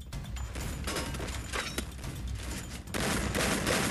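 Video game shotgun blasts from an M1014 go off in several quick bursts, with a louder stretch of gunfire near the end.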